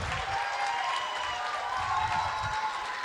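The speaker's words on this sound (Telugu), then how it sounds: "సో ప్లీజ్ అందరూ ఒక్కసారి నిలబడి గట్టిగా చప్పట్లు" An audience at the TCA Ugadi 2024 celebration rises for a standing ovation, and a dense, steady wash of clapping fills the hall for a few seconds, with faint crowd noise mixed in.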